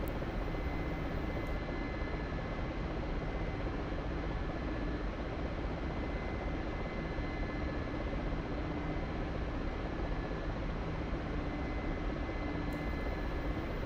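Mi-24 Hind attack helicopter flying steadily over the Syrian coast in the DCS flight simulator, a continuous broadband rotor and turbine drone with no talk.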